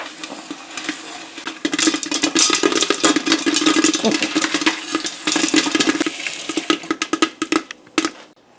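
A stovetop Whirly Pop popper full of popcorn is cranked and stirred, giving a loud, continuous rattling churn of kernels against metal that breaks into separate clattering bumps toward the end.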